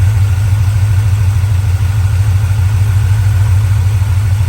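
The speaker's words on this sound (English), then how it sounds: "Engine runs super smooth." A 1967 Chevrolet C10 pickup engine idles steadily with a deep, even rumble, loud and close, running smoothly without revving.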